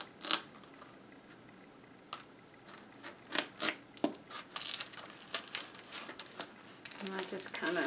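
Scissors cutting around material while organizing tall winter boots, giving close, quiet, irregular snips and crinkly rustles in uneven bursts, with a person speaking intermittently.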